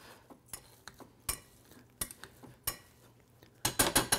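Warm boiled potatoes with melted butter being mashed up close, with irregular clinks and soft knocks of a utensil against the bowl and a quick cluster of sharper strikes at the end, no voices.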